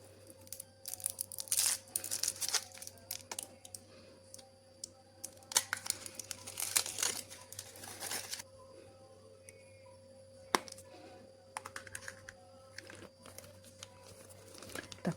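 Faint crinkling and rustling of thin Kinder Surprise Easter egg wrappers being unwrapped, intermittent bursts with quiet gaps and occasional sharp crackles, close by.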